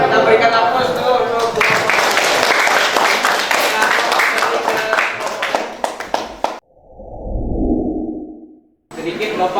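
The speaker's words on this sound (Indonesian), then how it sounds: "Kita berikan aplaus dulu" Loud, close audience applause at a classroom teaching session, a dense run of many hands clapping for several seconds before cutting off, followed by a short muffled breathy rush and then a sudden return of sound.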